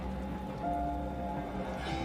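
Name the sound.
rain falling, story sound effect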